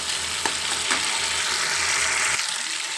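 Dried prawns sizzle steadily in hot oil in a pan, a continuous close crackling hiss with a faint low hum beneath, easing slightly near the end, with no voices.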